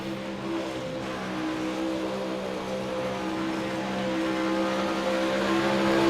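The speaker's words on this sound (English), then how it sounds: "On the speedway right now in car number 1, that is Jonathan Wiley." A late model race car circles the Eldora Speedway dirt oval, a steady engine whine heard from a distance that builds slowly in loudness as the car draws nearer.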